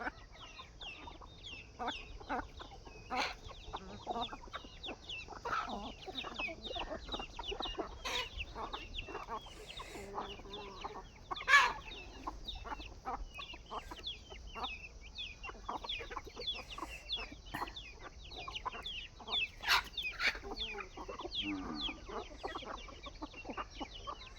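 Chickens cluck and squawk on and off throughout, several birds close by with one sharper squawk partway through.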